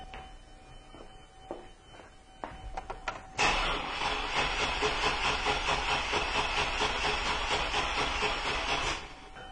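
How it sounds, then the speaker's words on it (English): A car engine with a no-spark fault cranks over on a weak battery and fails to start. After a few faint clicks, a loud, rhythmic, labored cranking churns on for about five seconds and then cuts off. "let's get this car cranked over, see if there's enough battery juice to crank this car"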